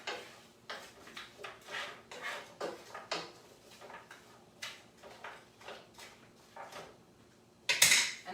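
Vegetables are stirred in a pan during meal prep, with a steady series of close utensil scrapes and knocks at a regular rhythm, ending in a louder metallic clatter.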